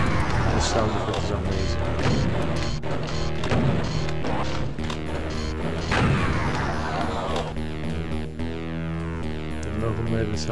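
Plasma gun fire in Doom 2 on the level Dead Simple at Ultra Violence difficulty comes as dense, rapid crackling shots mixed with loud crashes and impacts from the game, continuous and busy throughout.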